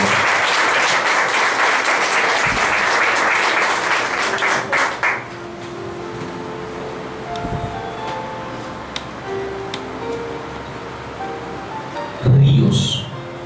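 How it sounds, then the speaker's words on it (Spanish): Church congregation applauding, a dense burst of clapping that fades out after about five seconds, leaving a quieter room with faint voices, scattered shuffling and a brief louder knock near the end. "Dale un aplauso que tú has respondido al llamado de Dios."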